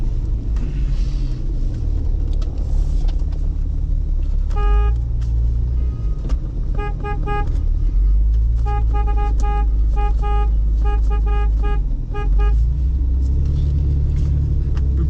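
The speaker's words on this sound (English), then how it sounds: "We hear somebody in the bush honking." A car horn honks in repeated short bursts and clusters over a steady low engine rumble, moderately close, out in snowy bush.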